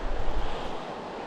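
A fast-flowing creek rushes like a river in the Whitehorse wildland, a brief, loud, continuous roar of churning water with some wind noise on the microphone.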